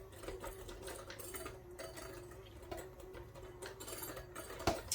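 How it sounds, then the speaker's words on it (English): Electric hand mixer whirring steadily through dry ingredients for homemade Hostess-style Ding Dong cake batter, a faint continuous motor hum with light ticking and a clunk at the end. "I'm just going to give that a little mix here with the mixer"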